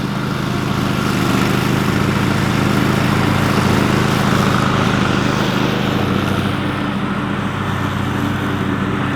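A John Deere riding lawn mower runs steadily close by, its engine a constant loud drone with a rough low rumble that never lets up, and no voices over it.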